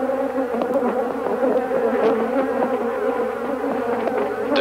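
Africanized bees swarm and sting a bag holding a microphone, a loud, close, continuous angry buzz with many overlapping wingbeat tones and no voices.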